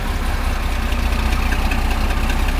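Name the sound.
tractor engine reversing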